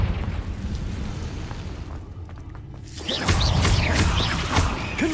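A Confringo blasting spell explodes in a video game: a quieter hissing stretch gives way to a sudden loud burst followed by dense crackling, debris-like rumble that keeps going to the end.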